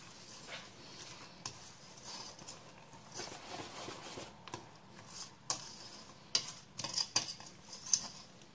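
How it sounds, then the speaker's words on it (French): A spoon stirring salt cod fritter batter with parsley in a bowl, producing faint, irregular clinks and scrapes that grow sharper toward the end, close by and quiet. "Je mélange."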